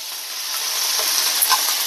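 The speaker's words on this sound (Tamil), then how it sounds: "சோம்பு பொரியுது, ஸ்டவ் குறைச்சிக்கலாம்." Fennel seeds and curry leaves sizzle steadily in hot oil on a stove, a continuous close, bright frying hiss with small crackles and pops rising near the end.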